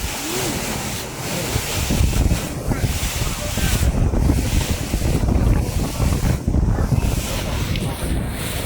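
Strong wind buffets the microphone over a steady rumble of churning sea and waves off Tai O fishing village, Hong Kong, loud and continuous throughout.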